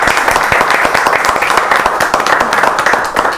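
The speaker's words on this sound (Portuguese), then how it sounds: "Eu acho que merece uma salva de palmas." Steady, dense applause and clapping from a small audience at a Portuguese-language talk on building a feedback culture, loud and continuous throughout.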